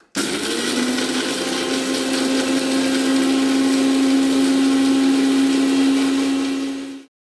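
A kitchen mixer grinder grinds chutney in a steady, loud, continuous whine with a constant motor pitch. It runs alone for about seven seconds, then cuts off abruptly.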